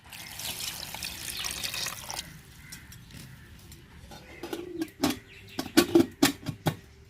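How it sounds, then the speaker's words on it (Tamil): Water pours steadily into a pot of mutton curry for a couple of seconds, then a few louder splashes and drips follow close by. "தேவையான தண்ணி ஊற்றிக்கிறோம்"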